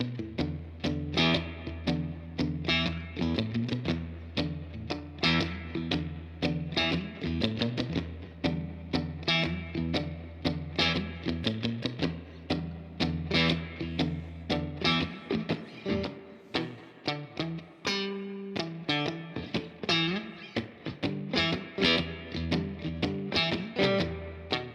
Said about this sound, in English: some non-surf spring reverb